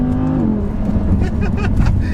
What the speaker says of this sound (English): whilst in dynamic mode it'll crackle as you drop the gears and you let off the throttle there